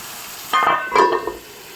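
Chicken pieces for an Andhra-style chicken curry are turned once in a pan over ginger, garlic and onion, giving a brief scraping stir over a soft, steady sizzle.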